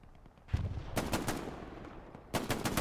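A Tommy gun firing in Hell Let Loose, fairly quiet, with a single shot followed by a longer automatic burst and then another short burst of rapid fire.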